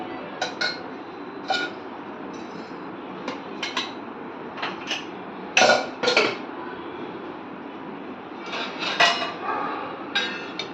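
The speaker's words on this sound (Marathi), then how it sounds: "आता इथे कुकर थंड झाल्यानंतर मी त्यामधले बटाटे काढून घेते" Boiled potatoes lifted out of a cooled pressure cooker for Kashmiri dum aloo, giving scattered metallic clinks and knocks of pot and utensils over a faint steady background hiss, with a brief cluster of louder taps midway and no talking.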